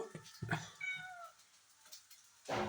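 Kittens meow a few times, thin high cries with gaps between them, close by over a quiet background.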